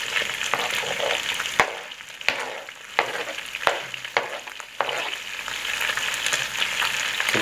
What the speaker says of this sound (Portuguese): o franguinho já fritou bastante, com a própria gordura